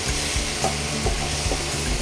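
Ground spice mix is stirred into a hot kadai for Bengali mutton kosha, with a steady sizzle broken by several rhythmic scraping stirs of the spatula, close and alone without speech.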